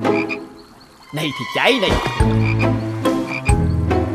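Cartoon frogs croak loudly in a pond, a burst of repeated ribbiting calls close by, with a voice speaking briefly over them.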